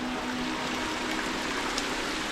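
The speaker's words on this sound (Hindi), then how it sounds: "चारों तरफ बहता हुआ ये प्राकृतिक वाटरफॉल" Natural waterfall on the Brahmagiri mountain trek near Trimbakeshwar, Nashik, Maharashtra, giving a steady, even rush of flowing water at moderate distance, continuous and unbroken with no talk over it.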